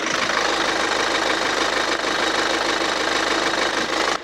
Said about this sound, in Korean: 엔진 소리 굉장히 좋았습니다